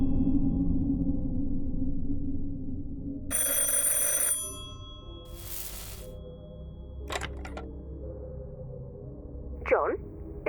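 A telephone rings in the video game The Incident at Galley House, a couple of short bursts of bell tone heard alongside game music and a voice, with other bright in-game clicks and swooshes nearby.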